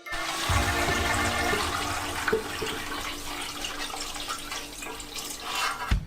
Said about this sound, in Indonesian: Tuangkan sekaldu ikan.